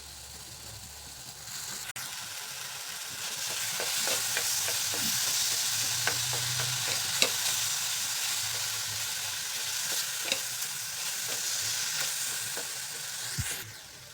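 Chopped bananas being stirred and sautéed in sheera for Satyanarayan prasad, steady pan sizzle with repeated scraping stir strokes throughout, close and moderately loud, no talking.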